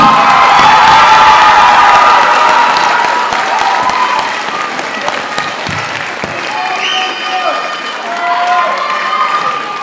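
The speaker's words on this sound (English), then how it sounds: "Let's give them one more round of applause" Loud applause and cheering from a crowd at a graduation ceremony, with whoops and shouts over sustained clapping that eases slightly midway and then continues.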